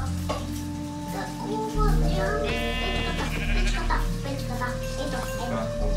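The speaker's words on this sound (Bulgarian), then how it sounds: "Овце!" A sheep in the Minecraft video game bleats a few times amid a busy mix of steady game sounds and background noise.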